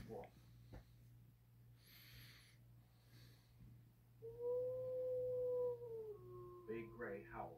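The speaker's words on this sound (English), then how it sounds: "Big Grey howls for the pack." A wolf howls from a television documentary, one long sustained note followed by a shorter wavering howl, faint and indoors under narration with a low steady hum.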